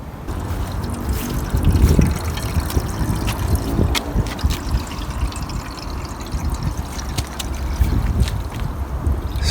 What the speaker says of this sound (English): So we're going to put a garden hose to it